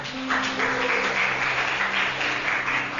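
A congregation at a Filipino church service breaks into steady, even applause that carries on alone for several seconds over a low background hum.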